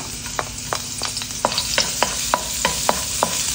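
Three cloves of garlic sautéing in a little oil in a pan, an even sizzle broken by a regular series of sharp spatula taps and scrapes, close and clear.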